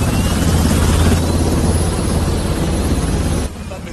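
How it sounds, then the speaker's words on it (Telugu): A helicopter arriving as a film sound effect, a loud, close, continuous rotor whirr and rumble with wind noise that drops off abruptly near the end. "నన్ను ఎత్తుకుపోవడానికి హెలికాప్టర్ వచ్చినట్టున్నదిరా"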